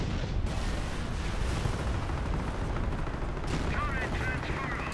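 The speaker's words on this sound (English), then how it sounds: "So over here I have my 2 Panthers firing off at this tank depot" Two Panther tanks shell an enemy tank depot in the real-time strategy game Company of Heroes: a dense, continuous wall of booming cannon fire and explosions, loud and sustained throughout with brief whistling tones near the end.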